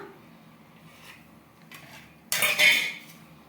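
Aloo paratha is served onto plates: faint soft rustles, then a brief, louder scrape and clatter of a utensil against a plate near the end.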